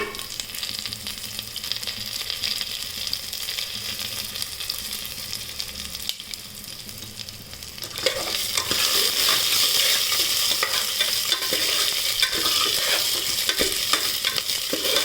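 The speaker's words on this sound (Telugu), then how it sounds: "అందులోకి ఫ్రై చేసిన ఉలవలు కూడా అందులోకి వేసి ఒక వన్ మినిట్ ఫ్రై చేసుకుందాం" Horse gram fries in a pan with onion and curry leaves: a steady close sizzle with stirring scrapes, which grows noticeably louder and hissier about halfway through, with no voices.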